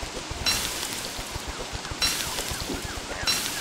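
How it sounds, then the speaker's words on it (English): Steady rain hiss falls in the Don't Starve video game, with brief bursts of heavier downpour recurring every second or so over a busy, crackling background. "And it's raining."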